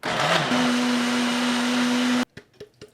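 A blender whirs loudly, blending pandan leaves with limewater for a Thai pandan dessert, a steady motor whine that cuts off abruptly near the end, leaving a few faint clicks.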